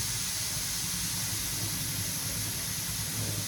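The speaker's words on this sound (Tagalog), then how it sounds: "Maririnig mo naman kung lalabas yung hangin." Air hisses steadily out of a loosened PCP air rifle valve, an even, close, unbroken rush of air with no talk over it.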